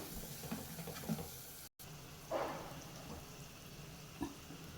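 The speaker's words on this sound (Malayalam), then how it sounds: "അപ്പം നമുക്കിനി പുളിവെള്ളം ഒഴിച്ച് കൊടുക്കാം." Tamarind water poured into sautéed masala in a pan for South Indian rasam, a faint sizzle and splash with a stronger hiss in the middle and quiet stirring clicks.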